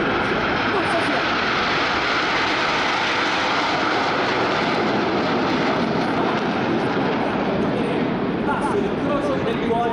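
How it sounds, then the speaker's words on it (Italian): An MB-339 jet trainer arriving at an air show roars steadily and loudly for the whole stretch, a broad continuous engine wash with no break. "Chi sta in arrivo stavolta vuole accompagnarci ad esplorare gli angoli più remoti dell'inviluppo di volo dell'MP 339."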